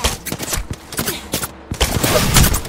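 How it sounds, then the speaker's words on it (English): Rapid gunfire in the battle royale shooter Apex Legends, season 10: loud, close bursts of sharp shots in quick irregular volleys with brief pauses, alone with no talk. "Listen up, I'm getting shot"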